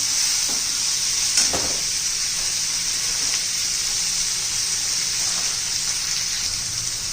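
Tomato and spice masala for paneer masala sautéing in a pan, a steady, close hiss of frying with stirring and occasional soft scrapes throughout, no talk.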